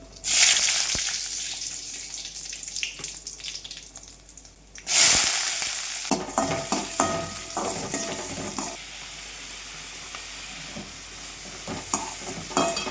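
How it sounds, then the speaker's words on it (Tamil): Spices tempering in hot oil for a cabbage stir-fry in a home kitchen, a steady close sizzle with a sharp hissing burst near the start and another around five seconds, then lighter crackling and stirring scrapes. "இப்போ வந்து தாளிப்பு ரெடி பண்ணிக்கலாம்"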